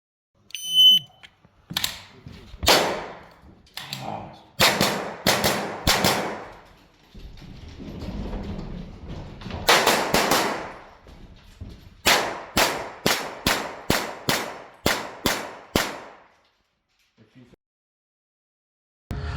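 Gunfire rings out at a practical shooting championship at Silverstone Shooting Centre as a competitor fires sharp, loud shots in rapid strings. Brief pauses separate the groups of shots, and a final quick volley trails off into quiet.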